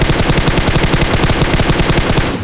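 Rapid automatic gunfire rattles in a battle royale video game, a loud, dense, evenly spaced burst of shots that runs for about two seconds without any voices.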